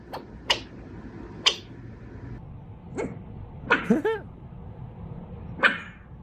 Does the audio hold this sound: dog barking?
yes